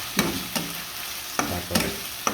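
Climbing perch curry fries in a pan as tomatoes go in, a low, steady sizzle punctuated by four or five sharp spatula scrapes and knocks.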